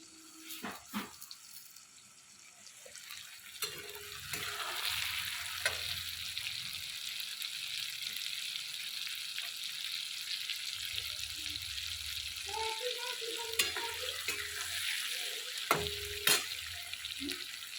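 Dal and rice are sautéed in a pan with tomato and chili, giving a soft steady sizzle close by, broken now and then by scraping stirs and a few sharper clinks.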